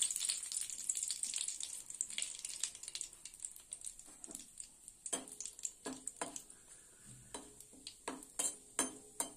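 Black cumin, a bay leaf and two dried red chillies sizzle quietly in hot oil in a kadai, a faint steady hiss broken by small crackles and light taps.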